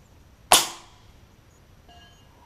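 A single suppressed shot from a Texan .308 rifle fitted with an LDC moderator, fired at a 200-yard target: one sharp, loud crack with a brief decaying tail, then quiet outdoor ambience.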